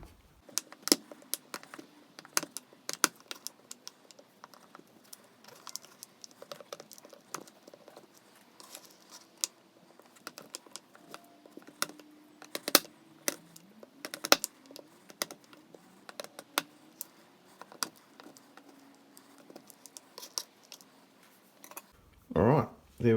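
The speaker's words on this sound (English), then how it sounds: "So we're just gonna cut it up just so it's easier to melt" Block of beeswax being cut into small pieces for melting, giving a run of scattered light cuts and clicks, mostly faint with a few sharper snaps, spread across the whole stretch, with a short louder crinkle at the end.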